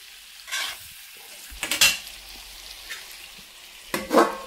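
Pork curry with garam masala stirred and fried in a pan, giving intermittent bursts of scraping and sizzling between quieter gaps, close and alone.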